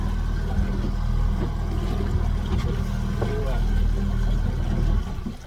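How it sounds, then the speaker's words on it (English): A fishing boat's outboard motor idles steadily and loud on the water during a king salmon trip, a continuous low rumble that drops off abruptly near the end, with voices talking over it. "We're going to turn the motor off."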